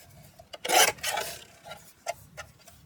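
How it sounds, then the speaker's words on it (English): A guillotine trims the edge of paper pages for a recipe album, giving a loud rasping cut followed by smaller scraping and tapping sounds, close by. "So I'm just going to trim off that edge."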